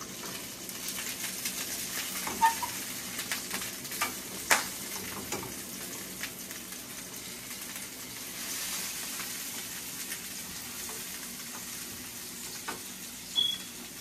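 Breakfast food, likely bacon, ham or eggs, sizzling steadily in a pan over low heat after being flipped, a continuous near crackle with occasional small pops and clinks, no talking.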